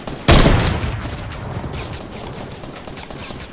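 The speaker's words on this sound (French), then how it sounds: "mais qui c'est qui me tire dessus là?" Gunfire aimed at the player in Fortnite, a sudden loud burst followed by sustained rattling shots and echoes, dense and close for several seconds.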